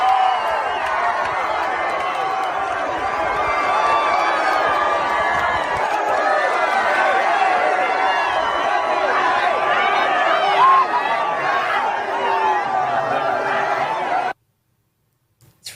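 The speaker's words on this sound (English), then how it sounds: "Wow, huge crowd." A large crowd at an outdoor Charlie Kirk event mills and cheers around a car as hats are thrown, a dense roar of chatter and shouts with a voice talking over it, cutting off abruptly near the end.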